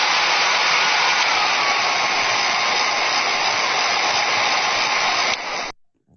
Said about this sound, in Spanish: El secador de pelo.